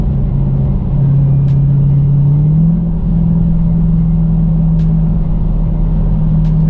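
A 2021 Dodge Challenger SRT Hellcat drones in a steady, loud, close low engine rumble with a rising pitch partway through as the tires break traction, plus a few faint clicks.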